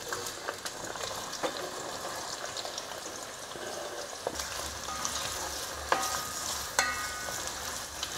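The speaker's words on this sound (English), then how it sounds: "once this is nice and hot, in goes the onion, and I'm going to cook them until they're beautifully golden" Onions for a kacchi chicken biryani frying in hot oil, a close, steady sizzle with a few sharp clicks of stirring, growing slightly fuller partway through, with no voices.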